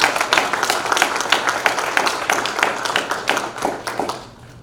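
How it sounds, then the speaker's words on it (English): Applause from a lecture audience: a steady patter of many hands clapping fairly close, holding for several seconds before thinning and fading near the end. "So let's give them a big hand of applause."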